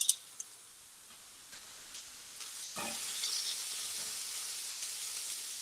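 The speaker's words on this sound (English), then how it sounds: "This is sizzling. I'm gonna turn it." A steady, soft hiss of chicken sizzling in a frying pan builds slightly over several seconds, with a couple of faint clicks near the start.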